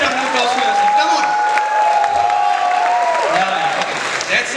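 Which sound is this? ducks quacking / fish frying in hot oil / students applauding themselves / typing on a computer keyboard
students applauding themselves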